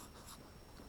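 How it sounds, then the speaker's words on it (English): A pen scratches faintly on paper in a brief stretch of soft, uneven strokes, quiet and close, with no speech. "I'm going to go ahead and I'm going to write"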